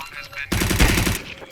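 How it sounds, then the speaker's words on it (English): Loud burst of rapid automatic gunfire from a shooting video game, a dense roughly half-second barrage that starts abruptly after quieter game sounds and then fades into lingering background noise. "It's a gun"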